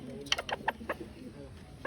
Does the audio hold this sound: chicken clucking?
yes